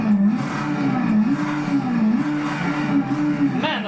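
A Toyota AE86 Sprinter Trueno in Project Cars 3 revving, a loud, close engine drone whose pitch wavers up and down in repeated blips, ending with a quick rising rev.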